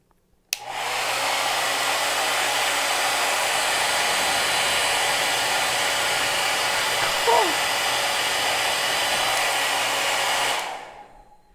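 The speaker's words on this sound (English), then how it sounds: "turn the hairdryer on so it's blowing steadily and strongly enough to let go of the ball" A hair dryer starts abruptly and blows with a loud, steady whoosh for about ten seconds before winding down, holding a ping-pong ball floating in its airflow.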